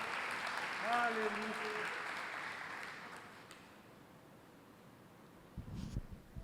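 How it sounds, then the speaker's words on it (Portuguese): A church congregation claps in a broad wash of applause that swells and then slowly fades, with a voice calling out over it near the start. "Você pode dar uma linda salva de palmas a Jesus."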